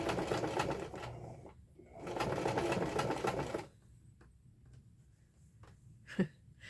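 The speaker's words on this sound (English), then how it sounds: "fraying, so I think we'll zigzag it. Okay. Back stitch a little bit too." A sewing machine zigzag stitches and backstitches the frayed edge of fabric for a pocket, with two loud sustained bursts of rapid whirring separated by a brief pause, then quiet with faint handling noises.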